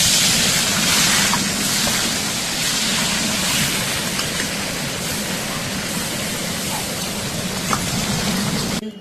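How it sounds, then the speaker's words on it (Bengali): Fish frying in a pan in a Bengali home kitchen gives a loud, steady sizzle like dense hissing rain that runs unbroken throughout. "এখন আমি মাছটা আগে ভেজে তুলি।"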